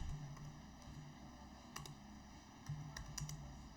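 Quiet typing on a computer keyboard while entering text into an Excel worksheet, with scattered soft key clicks in short irregular bursts over a low background hum.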